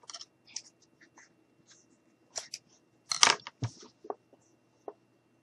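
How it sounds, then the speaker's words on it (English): Scissors snip a small piece off a craft gnome: a few sharp, close cuts and light handling rustles spaced apart in a quiet room. "I'm just going to cut this little piece off."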